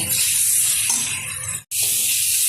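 Potatoes stir-fried dry on high heat for aloo kosha give off a loud, continuous hissing sizzle that cuts out for a split second, then resumes just as strongly.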